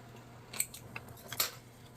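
Scissors snip excess sewing thread on a handmade Easter basket, a few quiet close metallic clicks and snips against a faint hum.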